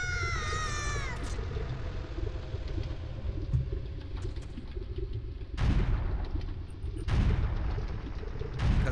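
Bombs exploding in The Legend of Zelda: Ocarina of Time inside Dodongo's Cavern, two loud booming blasts late on over a constant low rumble, following a brief chime at the start.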